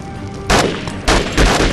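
Short bursts of single-shot gunfire in Conflict: Desert Storm 2, loud and close, with rapid shots in two or three clusters separated by brief pauses.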